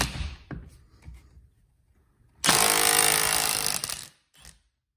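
An 18-volt impact wrench set to 200 foot-pounds hammers loudly in one sustained burst of about a second and a half, with a short follow-up burst after quiet handling noises, in a Milwaukee versus DeWalt 3/8 impact comparison.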